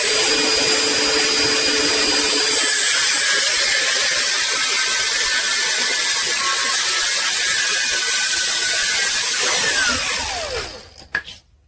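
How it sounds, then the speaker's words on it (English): An angle grinder cuts through aluminum, a loud continuous high-pitched whine and harsh grinding screech that holds for about ten seconds before the motor winds down and stops, close up with no talking. "I cut everything with my grinder"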